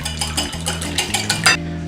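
Egg whisked in a bowl with oil, salt and pepper, a quick series of rhythmic scraping taps over steady background music, close and fairly loud.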